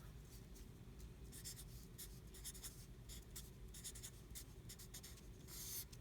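Pen or marker scratching out a fraction addition problem, a series of quick, faint strokes and taps over a steady background hiss.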